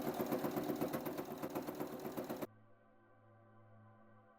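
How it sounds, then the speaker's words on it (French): A sewing machine stitches a hem 2 cm from the edge in a fast, regular mechanical rattle. It runs loud and close for about two seconds, then stops abruptly and leaves a quiet hum. "maintenant je vais piquer à 2 cm"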